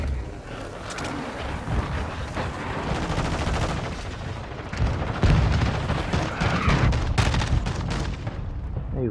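Dense, continuous gunfire and explosive booms in Call of Duty: Modern Warfare II, with sustained loud bursts and heavier impacts throughout, a faint voice buried under the shooting.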